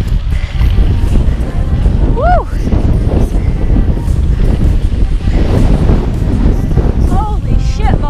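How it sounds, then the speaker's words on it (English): Strong wind buffets the microphone on a mountain summit at Columbine, a steady loud roar of wind noise throughout, with a brief shout and some speech under it. "It's real windy up here."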